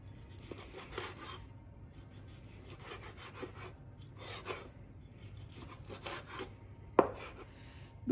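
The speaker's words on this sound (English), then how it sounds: "Let's get to slicing the steak" A knife draws through a cooked steak on a board in a few repeated slow strokes, with soft rasping cuts close by, quiet and alone, ending in a sharper knock.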